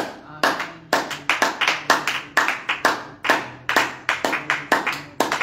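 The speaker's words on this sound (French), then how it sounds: "Est-ce qu'on peut l'acclamer?" A church congregation at morning prayer claps in acclaim of God, a dense run of sharp, roughly rhythmic hand claps that rise and fall in quick waves, close and lively.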